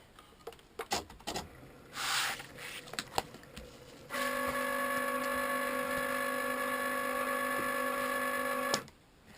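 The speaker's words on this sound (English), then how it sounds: "let's turn on my Cricut." A Cricut cutting machine powers on after a few light clicks and handling taps. It settles into a steady, tonal motor whir for several seconds, then stops with a soft click.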